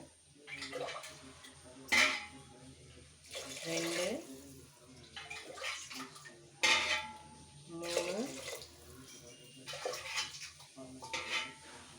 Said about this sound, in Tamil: இப்போது ஒரு டம்ளருக்கு ஒன்றரை டம்ளர் தண்ணின்னு சேர்த்துக்கலாம்